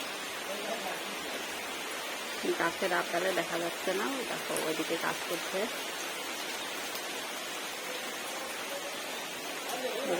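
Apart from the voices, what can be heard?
rain falling on a courtyard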